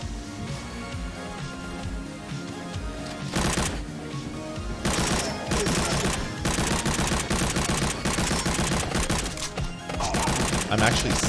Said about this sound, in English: Grab this machine gun.